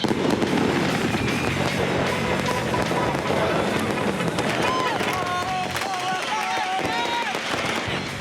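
Fireworks crackle and pop amid a noisy crowd in Libya, with voices and shouts mixed into a dense, continuous outdoor din.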